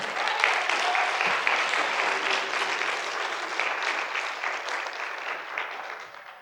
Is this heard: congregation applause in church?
yes